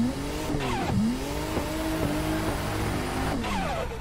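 A car drifts down Mt. Akina in a racing video game, its engine revving continuously with squealing tires and shifting pitch, loud and steady throughout.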